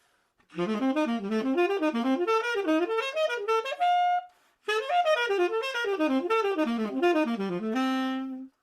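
Same triad pair pattern now played in eighth notes, rapid even runs weaving up and down in two phrases with a brief break, ending on a held low note, close and unaccompanied by talk.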